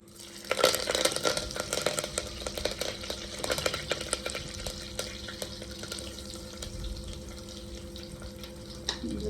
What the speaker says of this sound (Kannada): ಸಂಜೆಗೆ ಬೆಂಡೆಕಾಯಿ ಫ್ರೈ ಮಾಡ್ತಾ ಇದ್ದೀನಿ ನೋಡಿ